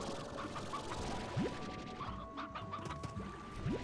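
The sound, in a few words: chicken clucking in the video game Slime Rancher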